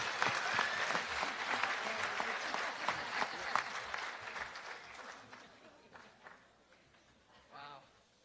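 An audience at a fourth grade promotion ceremony at an elementary school applauds, a broad sustained wash of clapping that gradually fades toward the end, with faint voices surfacing under it.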